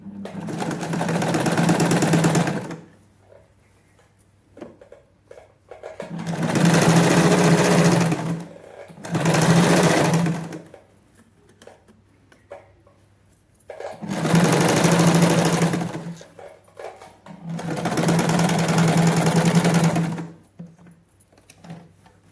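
A sewing machine stitches a zip onto a trouser in five separate bursts of rapid, whirring mechanical clatter, each lasting a few seconds, with quiet pauses between them.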